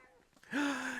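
A cat gives one drawn-out meow that rises and then holds steady, close and fairly loud, with a few soft sounds just before it.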